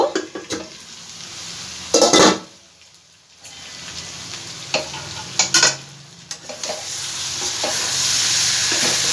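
A spoon scrapes and clatters through jackfruit curry with spices in a pan over a medium flame, giving loud bursts of metallic stirring and a brief lull, followed by a rising, steady sizzle.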